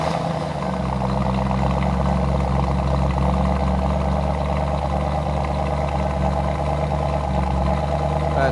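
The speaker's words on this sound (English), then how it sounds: "let's fire it up, let's listen to the exhaust note" A 1967 Mustang GTA convertible engine runs at a steady idle with a deep, continuous exhaust rumble throughout, close and loud, with no clear start-up burst.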